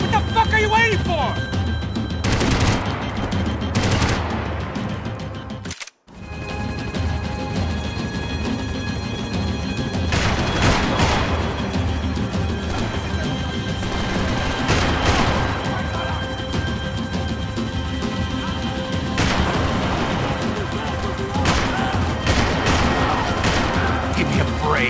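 Dense volleys of gunfire and crashing impacts in the video game Max Payne 3 rattle on almost without pause, with a brief drop to silence near the six-second mark, while voices shout over the action.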